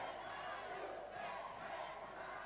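A crowd at a French wrestling match cheers on Walter Bordes in a tag-team bout, giving a continuous muffled roar of massed voices at a steady level that ends in a sudden sharp burst.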